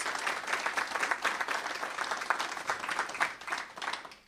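At a letter-of-intent signing day event, an audience gives a warm round of applause for Enrique and Mr. Humphrey: continuous close clapping from many hands, with fluctuating intensity and no talking.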